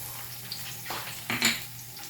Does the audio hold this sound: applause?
no